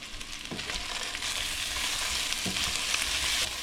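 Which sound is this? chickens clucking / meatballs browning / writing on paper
meatballs browning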